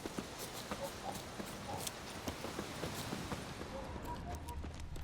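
A horse clip-clops along in The Witcher 3: Wild Hunt, steady hoofbeats repeating over a busy game soundscape for the whole stretch.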